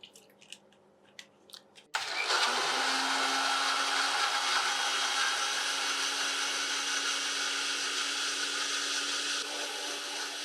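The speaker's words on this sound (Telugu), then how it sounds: "స్మూత్‌గా మిక్సీ పట్టేసుకోవాలండి" A mixer grinder blends beetroot pieces with about 150 ml of water into juice. A few light clicks come first, then the motor kicks in with a loud, steady whirring drone that runs unbroken to the end.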